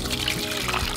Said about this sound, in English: Separate the cherries from the water.